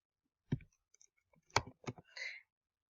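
Several sharp, sparse keystroke clicks from a computer keyboard while typing into a web form, loud and close in an otherwise quiet room, with short gaps between taps.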